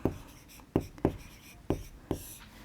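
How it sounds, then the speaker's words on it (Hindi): Pen or pencil writing into a table on paper, five or six distinct scratchy strokes at an uneven pace, close and fairly quiet with no talking. "तो बच्चों इसको हम लिख लेते हैं सारणी में"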